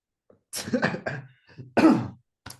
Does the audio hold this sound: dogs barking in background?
no